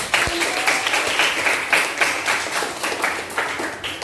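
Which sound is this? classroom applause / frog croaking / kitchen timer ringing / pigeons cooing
classroom applause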